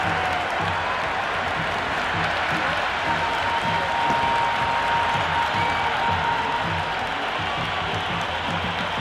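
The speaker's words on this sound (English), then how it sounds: "It's almost palpable, the excitement emanating from this crowd at the moment." A cricket stadium crowd in Cricket 26 on PlayStation 4 during Pakistan versus USA applauds and cheers, a loud, dense, continuous wash of clapping and voices with a faint commentator talking underneath.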